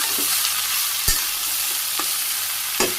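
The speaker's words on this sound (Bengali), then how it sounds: "পেঁয়াজ মরিচ ভাজি হয়ে গেছে, সবজি দিয়ে দিলাম" Chopped vegetables fry in hot oil with cumin, chopped onion and green chilies, a steady close sizzle broken by a few sharp stirring scrapes of a spatula in the pan.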